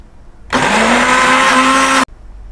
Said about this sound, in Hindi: अब इसमें हम हरा धनिया और पुदीना है ये भी डाल लेते हैं और इसे भी पीस लेते हैं।